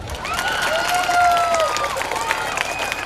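A crowd at a school felicitation and alumni gathering in Bennehalli claps loudly and continuously, with children's shouts, whistles and cheering mixed into a busy, noisy hall.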